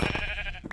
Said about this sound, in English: Kill a couple more sheep.